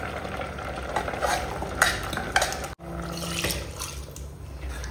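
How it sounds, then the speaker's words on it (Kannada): Ground masala being stirred into cooked brinjal in a pan, with scraping and soft stirring sounds and a faint sizzle, close by, with no talking. "ಈಗ ಇದಕ್ಕೆ ಮಸಾಲೆ ಸೇರಿಸುವ."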